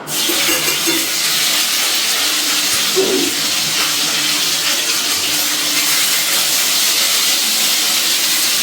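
Cumin seeds, dried chillies and a torn bay leaf hit hot oil and sizzle in a loud, continuous hiss that holds steady throughout.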